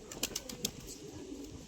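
Pigeons coo softly nearby, with a few low murmuring calls and light rustling across a brief moment, no voices.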